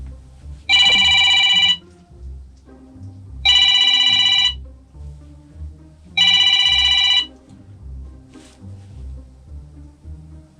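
A mobile phone rings for an incoming call on board a boat: three loud electronic ring bursts about a second each, spaced by short pauses, over a low background rumble.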